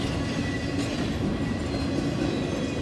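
A Norfolk Southern train rolls along railroad tracks in Pittsburgh, Pennsylvania, a steady close rumble of wheels and cars with faint rhythmic clacking and no voices.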